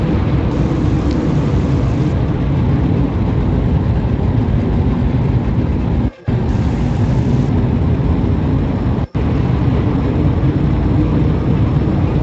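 A fighter/bomber aircraft in the video game Kerbal Space Program, droning as a loud, constant engine roar broken by two brief dropouts, with no voices.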